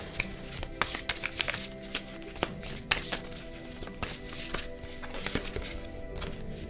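Angel Wisdom Oracle cards shuffled by hand at close range, a steady run of quick papery flicks and soft taps with no talking.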